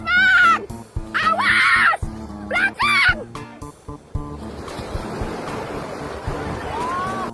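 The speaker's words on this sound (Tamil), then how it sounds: "ஆத்துல வெள்ளம் ஆர்ப்பரிச்சு ஓடிக்கிட்டு இருக்கு." A flooded river roars in heavy flow, a dense broadband rush of churning water under wind noise, joined early by loud shrieking cries before settling into a continuous torrent.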